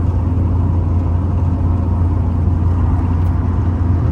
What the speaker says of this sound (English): let me try to downshift right now while recording